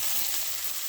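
Raw mango pieces fry in a pan with curry leaves, a steady close sizzle and crackle running throughout with soft stirring underneath, no voices.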